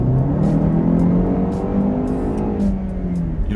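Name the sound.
Jaguar E-Pace accelerating at full throttle from slow drive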